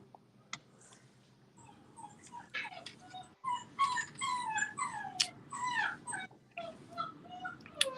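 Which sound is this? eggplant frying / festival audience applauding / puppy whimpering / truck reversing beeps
puppy whimpering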